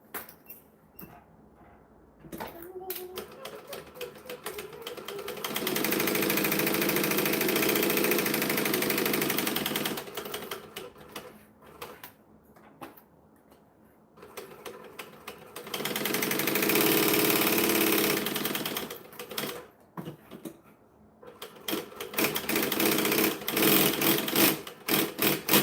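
A sewing machine stitches fabric for a stuffed kangaroo, running in two long sustained bursts of steady motor whir, each about four seconds, separated by quieter handling noise and start-stop revving.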